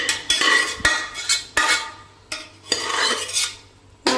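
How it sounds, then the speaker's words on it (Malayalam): Cooked pork is stirred and roasted in a pan for a Kerala-style pork curry: a spoon scrapes and clanks against the pan in repeated loud, close strokes, with no talk. "ഇനി ഇതിലോട്ട് വേവിച്ച് വെച്ച പോർക്ക് ചേർത്ത് നമുക്ക് നന്നായിട്ട് വരട്ടിയെടുക്കാം."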